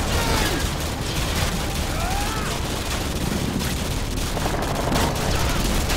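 Grenade launcher fire and explosions in the Modern Warfare 2 video game, a dense, loud, continuous barrage of gunfire and blasts that barely lets up, with faint voices mixed in.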